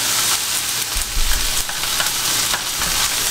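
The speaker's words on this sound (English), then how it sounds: "I'm gonna add the yakisoba noodles to start." Pre-boiled yakisoba noodles hit a hot pan with a loud, continuous hissing sizzle, joined by occasional stirring scrapes and no talking.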